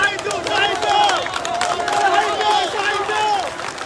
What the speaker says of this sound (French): On entend des hurlements